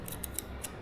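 Nuts are tightened on the clutch cable of a Triumph 765 RS motorcycle, giving a handful of short, sharp metallic clicks at uneven intervals over a steady low background hiss.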